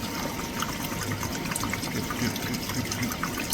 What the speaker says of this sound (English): You can see the dehu water, constant drip there.